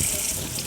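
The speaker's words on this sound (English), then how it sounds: "I'm just gonna get my hand rinsed off." Running tap water pours steadily into a sink as hands are rinsed off in a kitchen, a brief, close, continuous splashing rush.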